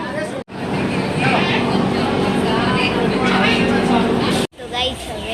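Inside a moving passenger train, a steady rumbling hum of the carriage runs throughout, with people talking over it and a couple of brief dropouts.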